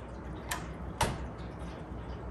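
A key on a 1940 Royal Varsity manual typewriter clacks twice, the second click sharper and louder, against a quiet room background.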